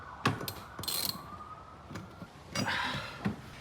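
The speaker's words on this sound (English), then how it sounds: "so I'm just trying to get the nut to spin off." A stuck, cross-threaded nut is worked along a threaded rod, giving scattered scraping, clicking and grinding bursts with pauses between them, close and fairly quiet.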